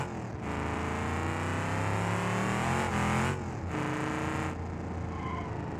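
A muscle truck's V8 engine screams under a nitrous-boosted pull in BeamNG.drive, loud and close, its pitch climbing steadily through the gears with brief dips at each shift.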